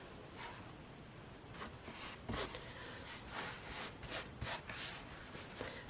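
Fabric is folded and pulled around a journal cover, a soft, close rubbing and rustling with short scratchy bursts and no talk.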